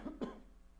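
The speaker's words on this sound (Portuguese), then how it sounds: "uma paradinha para tossir" Two quick coughs, close and fairly quiet, come from a person narrating a slide presentation tutorial, followed by a short stretch of near silence.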